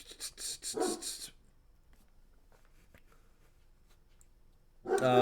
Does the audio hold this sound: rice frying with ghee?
no